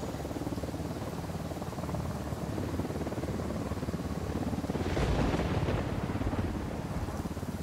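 A helicopter closes in during Ghost Recon Wildlands gameplay, its steady low rotor drone swelling a little louder midway through and then holding near and constant.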